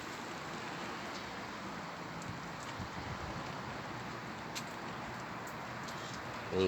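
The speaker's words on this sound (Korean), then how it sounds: "비가 오고 바람도 많이 불고 이런 날인데요." Rain falls steadily outdoors on a windy summer day at a cucumber growing area, a soft, even patter and hiss heard alone and fairly faint throughout.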